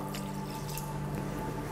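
Water pours from a measure into a Thermomix bowl already holding chunky canned and strained tomatoes, giving a faint, soft, continuous liquid trickle over a low background hum.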